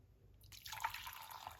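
Liquid starts pouring after a brief quiet moment, a steady, close trickling splash that continues to the end.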